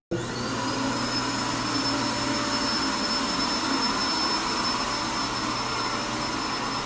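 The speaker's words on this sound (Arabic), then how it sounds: "هذه المكنسه الرئيسيه، تجي تشبك المكنسه فيها هنا، تشبكون المكنسة تكنسك البيت كامل." A central vacuum cleaner system in a house runs steadily with a loud, continuous whoosh and a high whine, unbroken for the whole stretch with no talking.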